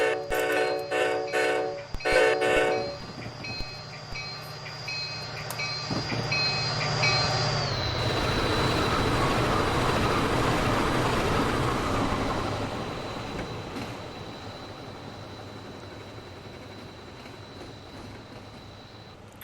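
Amtrak F40PH diesel locomotive passing at 85 mph: a horn blast and approaching rumble build into a loud, roaring flyby with rushing wheel and rail noise that fades slowly as the train recedes.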